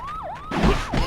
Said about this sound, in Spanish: comenzaremos a escuchar las sirenas de una patrulla de policía